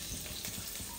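Garlic fries in hot oil for street-style chilli chicken, a dense close sizzle with soft crackling pulses, steady through the brief moment and without speech.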